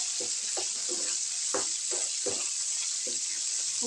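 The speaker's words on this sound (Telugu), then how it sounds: "పప్పుచారు తాలింపు పెట్టేసుకోవాలి." Mustard seeds, cumin and chillies for sambar tempering sizzle in hot oil, a steady bright hiss with soft irregular pops and stirring taps close by.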